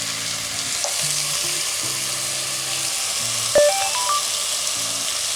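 Tomato pieces hiss and sizzle with onions in a hot pan while being stirred, a steady frying crackle with occasional utensil scrapes and a sharp clink.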